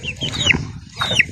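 Farm chickens cluck while being fed, close and loud, with two rising squawking calls about a second apart over a murmur of background noise.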